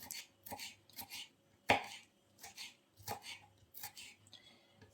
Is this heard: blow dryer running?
no